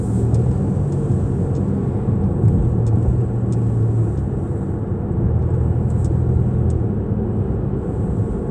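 Steady, loud road rumble and tire drone from a car cruising on the Atlantic City Expressway, a continuous interior hum with faint ticks and clicks over the top and no voices.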